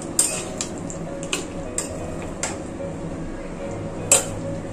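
Spoon and pot clanks over a quietly simmering pot of desi chicken curry, several short metallic knocks spread across the clip with a sharper clatter near the end as a lid is set on.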